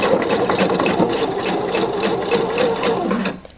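A sewing machine stitches a garment lining in a fast, even mechanical chatter of regular needle strokes, close and steady, stopping abruptly near the end.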